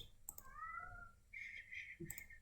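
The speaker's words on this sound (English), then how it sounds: "My cat is freaking out." A cat meows in short rising and falling calls, moderately close, with a few clicks around it while a room hum sits underneath.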